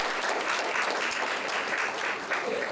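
A brief, steady burst of audience clapping at a volunteer recognition breakfast, dense and fairly quiet, with no voices standing out.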